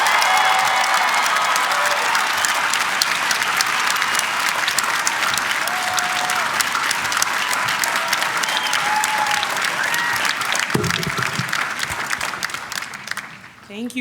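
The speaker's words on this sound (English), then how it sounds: "join me in an enthusiastic round of applause" Sustained, dense applause from a large audience at Carnegie Mellon's 2022 undergraduate commencement ceremony, steady and loud for most of the time before tapering off near the end.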